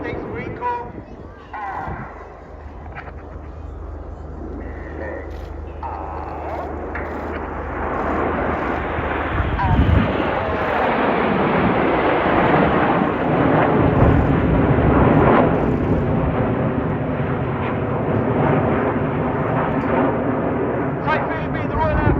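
Eurofighter Typhoon jets flying in formation at the RAF Cosford airshow, a loud sustained roar that swells after the first few seconds and holds steady, with an announcer speaking over it.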